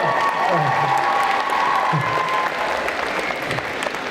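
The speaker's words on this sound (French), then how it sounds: "On l'applaudit quand même très très fort encore." Steady, loud applause from a crowd at a convention contest stage, sustained clapping throughout with faint voices mixed in.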